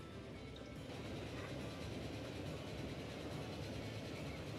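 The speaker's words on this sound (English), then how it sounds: "we're continuing to ride on this train" A train in the Transport Fever game rolls steadily along the line with a continuous low rumble and faint rhythmic clatter, heard close and constant without talking.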